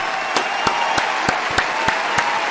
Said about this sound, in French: nous aussi on applaudit les gars